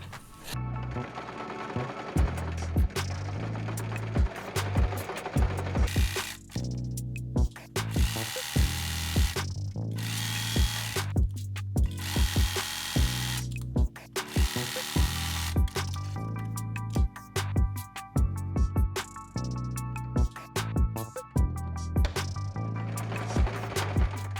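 A sewing machine stitches the seams of a kid's t-shirt in loud, close bursts of rapid mechanical whirring, stopping and restarting repeatedly with brief pauses between runs.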